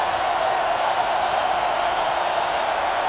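Steady, dense roar of a charged-up football stadium crowd at an FCS semifinal between North Dakota State and Richmond, a continuous wash of cheering and noise with no individual voices standing out.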